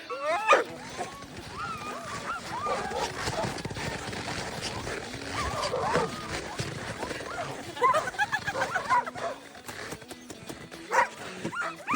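Excited sled dogs in Lapland, Finland, barking, yipping and whining together, a lively chorus with some voices mixed in, moderately close.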